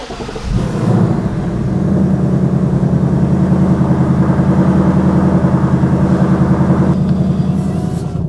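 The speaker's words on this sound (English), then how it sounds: "We'll fire up that 5-liter V8." The 5-liter V8 of a 2024 Ford Mustang Dark Horse cranks and catches, then settles into a loud, steady, rumbling idle that stays close and continuous.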